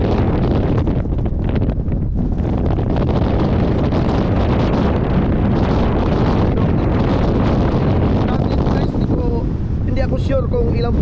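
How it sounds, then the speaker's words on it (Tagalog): Strong wind on Makara Hill near Wellington roars steadily against the microphone for the whole stretch, a loud, continuous buffeting rumble with gusty surges throughout. "grabing hangin dito, ayan o"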